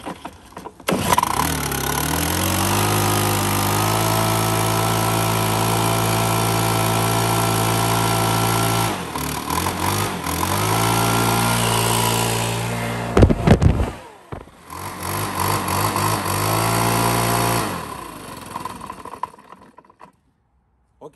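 A cold leaf blower engine is started with its repaired pull cord, sputtering to life and then running loud with rising and falling revs, briefly cutting out and restarting before dying away at the end.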